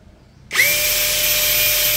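A Dongcheng DCJ cordless brushless impact drill whirs up abruptly at speed setting 2, about 2348 RPM, after a brief quiet moment, then holds a steady, loud high-pitched whine until the end.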